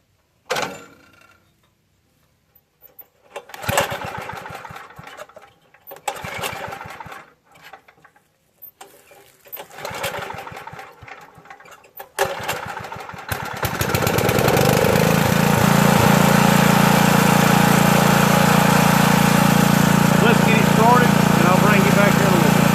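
Small garden tiller engine cranked with several pull attempts and mechanical clunks, then catching and settling into a loud, steady running drone that continues to the end.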